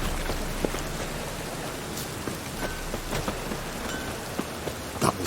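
Rain falls steadily in The Witcher 3: Wild Hunt, a dense patter of drops with occasional louder splats and a faint low rumble beneath, heard alone without talk.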